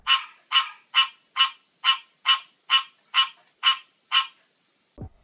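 A captive American green tree frog gives ten evenly spaced, nasal honking calls about half a second apart. The calls are clear and alone, then fade into a quiet pause.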